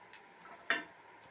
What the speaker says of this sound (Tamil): ஒரு அஞ்சு நிமிஷம் பேன்லேயே நல்லா வதக்கி விட்டுருங்க